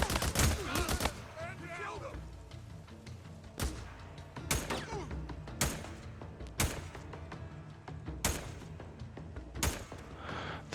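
Gunfire in the video game Days Gone, sharp gunshot bursts at irregular intervals with rapid volleys early on, close and punchy over a low game backdrop.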